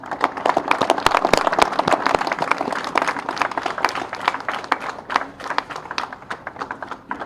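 Applause at a naval ceremony honouring Navy marathoners, a mid-sized group clapping with sharp individual claps standing out, loudest early and thinning toward the end.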